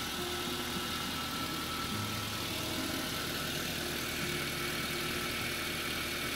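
A Toyota Avanza engine idles steadily with a low, continuous hum, close and moderately loud, with no talking.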